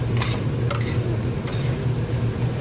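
Capsicum pieces stirred in a pan while cooking egg fried rice, a steady frying hiss with a few quick scraping strokes, close and moderately quiet, no voices.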